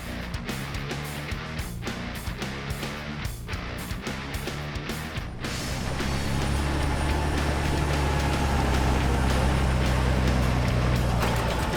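A tank's engine runs with a steady, heavy low rumble, which deepens and grows louder midway as the engine revs up and keeps droning at full strength.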